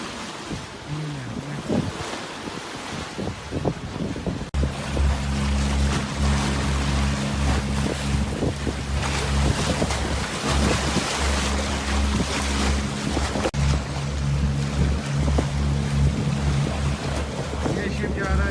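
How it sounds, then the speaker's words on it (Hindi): A ship moving across the water in Hong Kong during a typhoon gives a steady low engine hum under roaring wind and surf, with someone talking over it. "ये शिप जा रहा है जी"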